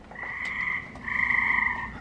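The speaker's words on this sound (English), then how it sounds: "There you go, you hear the frogs?" Frogs croak outdoors at night in a steady, continuous chorus of two overlapping tones, with a short dip midway before resuming, moderately near and with no talking.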